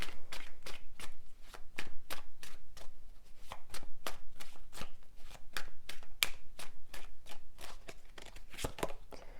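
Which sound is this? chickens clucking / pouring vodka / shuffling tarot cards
shuffling tarot cards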